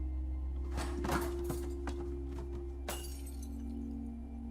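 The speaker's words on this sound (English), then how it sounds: "something crashed into the light overhead, breaking the glass and turning the room dark" Glass of an overhead light shattering in a dark room of an abandoned company building, a few sharp crashes and tinkling fragments over a steady low hum, followed by a final bright smash.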